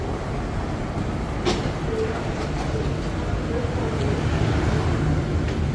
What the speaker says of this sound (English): So the train just arrived.